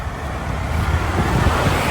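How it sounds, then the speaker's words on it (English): Steady, loud roar of passing cars and heavier vehicles on Holyhead Road in Coventry, a continuous rumble with no talk. "as you can tell from the noisy traffic"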